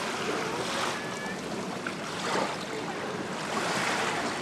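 Sea waves wash against the shore in a continuous broadband roar, with surges of surf swelling and receding amid wind noise, no voices present.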